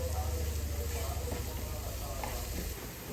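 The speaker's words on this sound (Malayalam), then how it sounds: "സവാളയും അതിനോടൊപ്പം തന്നെ പച്ചമുളകും കൂടി ഇട്ട് നന്നായിട്ടൊന്ന് വഴറ്റിയെടുക്കാം." Onions and green chillies sauté in a hot pan, giving a loud, steady close-up sizzle and frying hiss that eases off slightly near the end.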